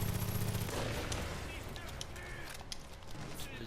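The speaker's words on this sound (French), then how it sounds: "C'est pas une batteuse, mais un fusil." Rifle gunfire in the Far Cry 5 video game: a run of sharp, loud shots that come unevenly through a dense wash of game noise and low engine drone.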